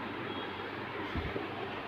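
An Usha Janome Allure DLX sewing machine runs freely with a steady low mechanical whir and a faint rumble, with a couple of slight thumps toward the end and no talking.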